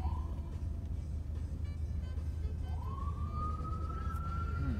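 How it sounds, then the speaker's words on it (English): An ambulance siren passes outside, its rising wail sustained and fairly loud over a steady background rumble, with no clear talk over it. "That's an ambulance, actually."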